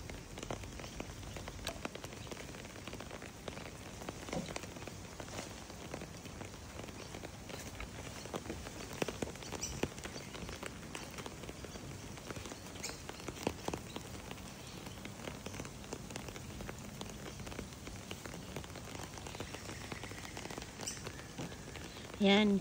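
Rain falls steadily, a soft, even patter on surfaces that continues quietly for over twenty seconds with no break.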